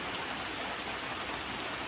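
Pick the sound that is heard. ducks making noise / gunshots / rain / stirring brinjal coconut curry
rain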